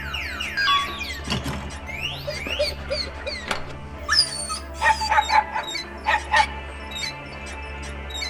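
A dog in a video game barks, yips and whimpers in repeated bursts over a low humming game soundtrack, with sharp sliding cries spread across the stretch.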